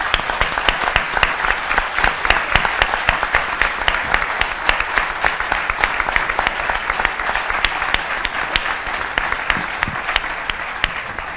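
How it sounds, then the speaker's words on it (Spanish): A large crowd at a Spanish Communist Party festival rally applauds steadily and loudly, a dense continuous roar of clapping that holds for over ten seconds with some rhythmic sharp claps standing out. "nuestro aplauso más caluroso"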